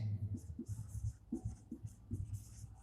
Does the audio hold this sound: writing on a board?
yes